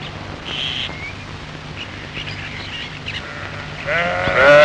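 Sheep bleating on open grazing land at the edge of a growing city, a few distant calls over a soft outdoor background, with a louder bleat rising near the end.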